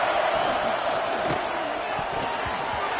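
Stadium crowd roar inside College Football 26, fans at Alabama's Saban Field on a third-down play, a steady dense wash of noise from many voices filling the whole stretch with no gaps.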